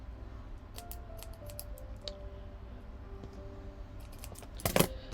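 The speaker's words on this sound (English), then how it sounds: "Alright, I'm just going to cut that off." Scissors snipping off excess material while crafting tiny tree angels: faint ticks and light handling noises, then a crisp, louder cutting snip near the end.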